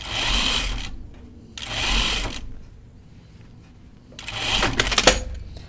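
A sewing machine runs a long gathering stitch just inside the seam allowance on a button-up shirt, in three bursts of steady whirring with quiet pauses between, close and fairly loud.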